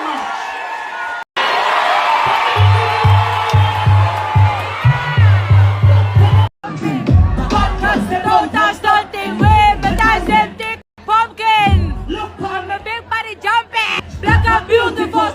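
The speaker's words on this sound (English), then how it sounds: "Give yourself a round of applause." Concert crowd cheering and shouting for about six seconds during a live performance on a 2022 Euro tour, followed by amplified singing over a throbbing beat with crowd noise underneath.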